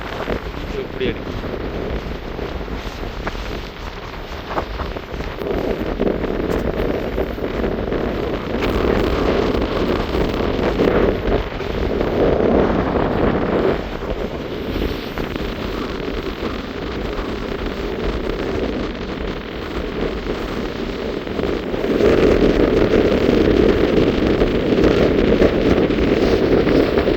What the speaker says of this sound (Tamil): காற்று வீசுது அவங்க ஓடலாம் இருக்கு.